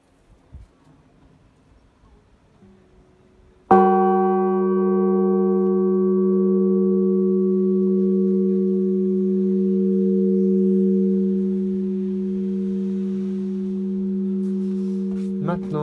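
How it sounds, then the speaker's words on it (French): The first bell of the Melezet church is struck once. The single loud clang blooms into a long, steady humming ring that slowly fades over more than ten seconds after near silence. "on est parti pour faire les tintements sur chaque cloche."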